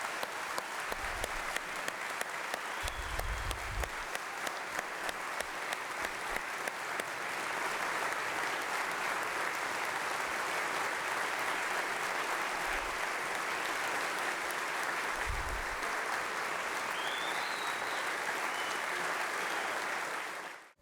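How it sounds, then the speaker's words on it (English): Audience applause at a state of the State address, a long, steady wash of clapping from a large crowd that swells after a few seconds and holds at full strength until it stops abruptly. "Give her another round of applause."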